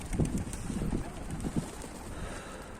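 Pigeons come in during a flock flight of tumbler breeds, giving soft, close cooing bursts with faint fluttering against an airy outdoor background.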